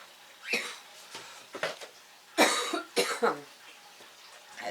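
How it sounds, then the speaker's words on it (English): Several short, dry coughs brought on by dry potting soil come in quick bursts close to the listener, with brief pauses between them. "That dry soil making me cough."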